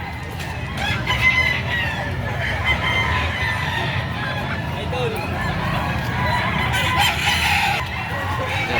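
Roosters and gamefowl crow and cluck at a busy gamefowl market in Padre Garcia, Batangas. Several birds call over each other, some honk-like cries are mixed in, and people talk nearby throughout.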